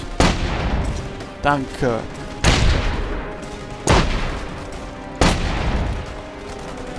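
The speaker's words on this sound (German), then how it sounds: "Ich habe 3 Schüsse aus einer Sniper auf den draufgeballert" Four loud sniper rifle shots in the video game The Saboteur, sharp cracks each with a booming tail, spaced roughly a second or more apart, with a brief spoken word among them.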